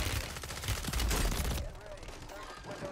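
Rapid gunfire from a FAMAS rifle in the Warzone video game, dense bursts for about a second and a half before dropping to quieter scattered shots, with game ambience underneath.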